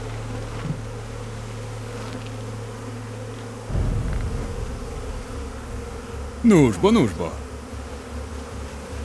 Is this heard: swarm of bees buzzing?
yes